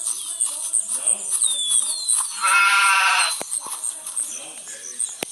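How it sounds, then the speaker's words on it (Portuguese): Sheep bleating in the video game The Wolf, a loud, wavering bleat in the middle with quieter bleats around it, over game sounds and some clicks. "Ovelhinha. Cadê a ovelha?"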